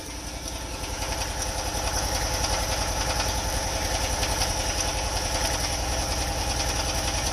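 A motorcycle-type engine idles steadily after its idle screw is adjusted, a close, loud, even low chugging that continues without a break and with no voices over it.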